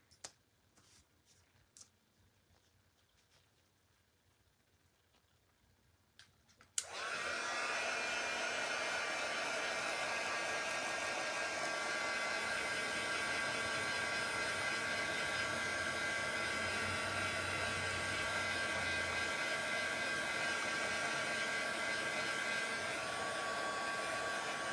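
A dryer switches on after a few quiet seconds with small taps, then blows a steady loud whir over glue on a small craft Easter basket, continuing unbroken to the end.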